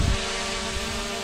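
An SJRC toy drone hovers outdoors in strong wind, its propellers giving a steady, close, droning buzz mixed with wind rumble on the microphone.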